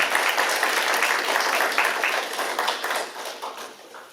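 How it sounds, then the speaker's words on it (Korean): Audience applause for a professor after a peace and unification lecture to a Korean community group in Atlanta, a steady mass of claps at moderate level that tapers off slightly toward the end. "엄청나게 박수 한번 주십니다."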